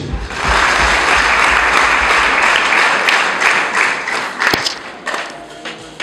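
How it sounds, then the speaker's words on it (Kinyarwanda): Congregation applauding in a church, a loud sustained wash of many hands clapping that swells and holds for several seconds, then thins out with a few scattered claps and thumps near the end. "Tukabihe Imana amashyi."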